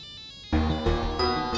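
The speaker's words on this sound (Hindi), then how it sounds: "ये तो सुमेर की मम्मी का फोन है" A mobile phone ringtone starts suddenly after a brief quiet moment and plays a bright, layered melody at close range with no voices over it.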